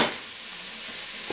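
Grilled onions and peppers stirred in a pan for chili con carne, a brief close sizzle and scrape with a short clatter at the end.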